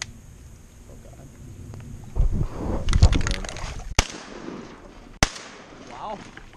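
Shotgun blasts while duck hunting over flooded grass fields, two sharp loud cracks a second apart following a burst of splashing and movement, with people talking nearby.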